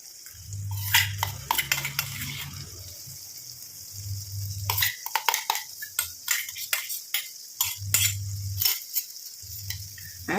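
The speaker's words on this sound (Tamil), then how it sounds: "ஆட் பண்ணிட்டு நல்லா இந்த மாதிரி கலந்து விட்டணும் எல்லாமே" Ground hibiscus flower and black cumin paste stirred into heated oil in a pan, with irregular scraping and clattering of a utensil against the metal, mixed with bursts of low hum and faint sizzle.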